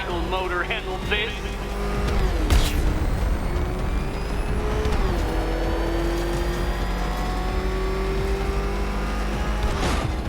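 Revving car engine in Batman: Arkham Knight, a steady droning motor with shifting pitch running throughout, overlaid by game dialogue and a couple of sharp bursts.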